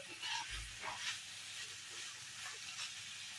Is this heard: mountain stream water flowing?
no